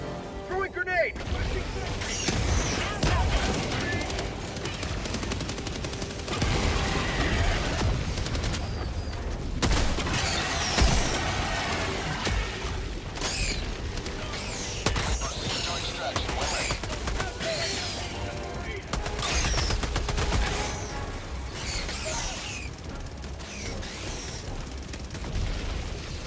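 Sustained gunfire and explosions from a Helldivers 2 battle, dense rattling bursts and booms running continuously and loudly for the whole stretch, with voices calling out over the din.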